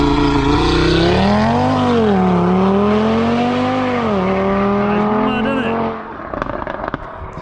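A tuned 2020 Audi RS3 with its OPF removed launches with a loud, close engine note. The revs climb, dip and hold for several seconds, then cut off into scattered crackles and pops.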